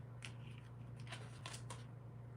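A deck of tarot cards is shuffled close by in several quick, soft riffling bursts over a low steady hum.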